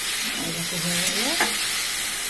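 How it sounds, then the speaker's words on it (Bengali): Prawns stirred and fried in a pan for a Bengali prawn curry give a loud, continuous close sizzle, with scraping from the stirring mixed in. "নাড়া দিলাম, বেশি ভাজলাম না"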